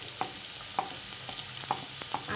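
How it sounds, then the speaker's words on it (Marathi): Onion sautéing in a pan for raw banana bhaji cooked Malvani style, a steady soft sizzle with a few quick stirring scrapes, quiet and without talk. "कांदा परतून घ्यायचा आहे, जास्त लालसर नाही करायचं आहे."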